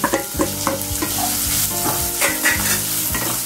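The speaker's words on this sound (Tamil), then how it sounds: "சேர்த்துக்கறேன் கொஞ்சம் வெங்காயம் நல்லா வேகட்டும்" Onions frying in a pan for macaroni, a close sizzle broken by rhythmic stirring and scraping of a utensil against the pan, no voices.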